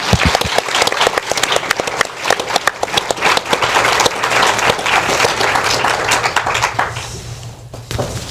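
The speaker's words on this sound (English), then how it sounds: "giving Ed, Deepak, and Nick a huge round of applause" Audience applause after a hosted finance panel on derivatives, with loud, dense clapping of many hands that holds steady for several seconds and then tapers off toward the end.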